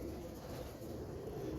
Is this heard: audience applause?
no